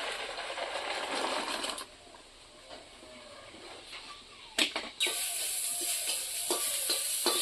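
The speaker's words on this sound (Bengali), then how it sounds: "শাকের মধ্যে আমি রসুন তেল কড়াইতে দিয়ে দিছি" Garlic frying in oil in a wok (kadai), a loud crackling sizzle that drops away briefly, then returns with clinks of stirring.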